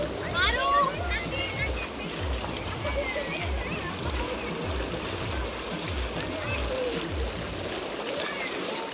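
Cold Indus (Sindhu) River water flows down from between the mountains at Sindhu Ghat, a continuous rushing wash with soft splashy pulses and voices talking over it.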